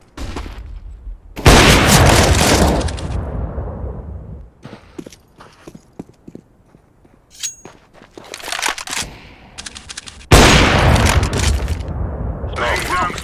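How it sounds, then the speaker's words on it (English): Counter-Strike: Global Offensive gameplay with a flashbang being thrown, loud booming blasts and bursts of gunfire separated by quieter stretches of scattered shots and clicks. "Throwing a flashbang."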